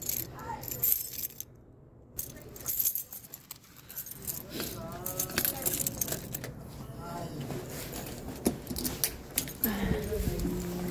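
Keys jangling, quiet metallic jingles and clinks that come and go in scattered bursts under ongoing talk and movement noise.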